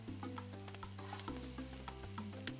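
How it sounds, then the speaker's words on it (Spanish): Rice frying with browned onion in a pan for Caribbean fried rice, a steady close sizzle with scraping and clicking as the grains are stirred to keep them from sticking, no voices. "lo vamos a freír durante 3 minutos, moviendo para que no se nos quede pegado, hasta que esté bien doradito nuestro arroz"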